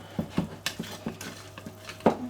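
Muffin batter is stirred in a bowl for marbled muffins, a series of quick, irregular scraping and tapping strokes close by, with a sharper clink near the end.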